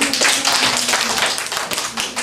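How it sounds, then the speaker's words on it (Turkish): A small group applauds a girl named Zehra, quick close handclaps in an uneven patter, fairly loud and sustained for a couple of seconds. "Alkışlayalım Zehra'yı"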